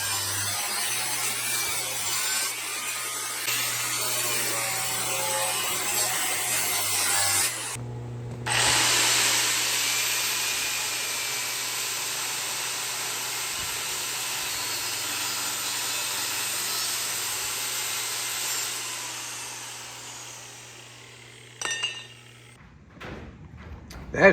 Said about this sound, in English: I'm cutting the lap joint where the vertical pipe is going to attach to that rectangular solid steel that came with the axles